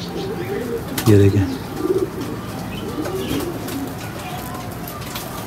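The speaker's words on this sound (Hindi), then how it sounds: "अच्छे साइज की कबूतरी है, बिल्कुल पैक कबूतरी है" A female pigeon coos close by in a loft among blue and purple fancy pigeons, a few soft rounded calls standing out amid chirps and someone talking over them.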